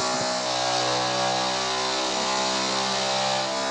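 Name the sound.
dirt bike engine revving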